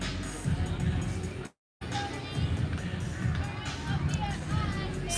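A hockey arena crowd cheers after a power play goal, a dense sustained roar of many voices that briefly cuts out, then resumes at full volume.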